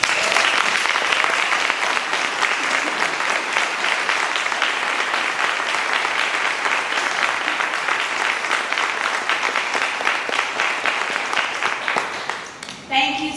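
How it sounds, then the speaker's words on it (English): An audience at a crisis center gathering claps warmly for staff in a long, even round of applause that holds steady before tapering off, followed by brief sounds at the end. "Can we give them a round of applause?"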